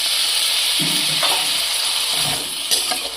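Spice paste with eggplant fries in a hot pan, a steady close sizzle with a few stirring scrapes and clinks and no voices.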